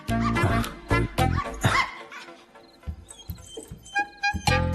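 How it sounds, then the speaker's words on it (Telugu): A dog in a Telugu film scene barks in short, sharp bursts, with a few whimpers and yips between them. The barks are close and loud, repeating unevenly with quieter whining gaps. "జిమ్మి దూరం నుంచి చూస్తే అరిచింది, దగ్గరికి వెళ్తే నాకింది."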